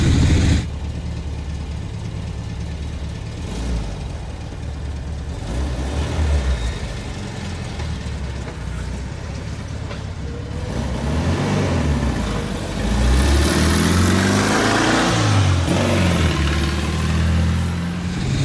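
A 1974 VW Super Beetle's air-cooled engine, still cold, pulls away and cruises, a close, steady mid-pitched drone with slight swells as it drives off.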